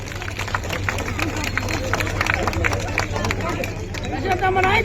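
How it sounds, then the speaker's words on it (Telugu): A crowd at a political rally for an MLA in Kovur constituency claps in dense, scattered bursts for about five seconds, with steady murmuring voices underneath. "అందరూ చప్పట్లు కొట్టాలి"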